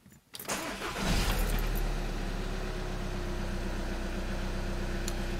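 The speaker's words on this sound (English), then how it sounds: "So I'm gonna start the engine." A Volkswagen Jetta in limp home mode with a P0544 exhaust temperature sensor fault cranks briefly, catches, and settles into a steady close idle.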